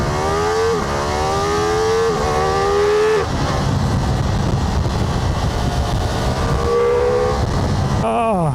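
A Ducati Multistrada V4 RS motorcycle pulls hard in first gear in sport mode, its engine note climbing steadily in pitch through several loud rising sweeps with brief dips between them, accompanied by heavy wind noise.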